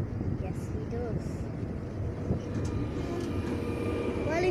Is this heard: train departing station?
yes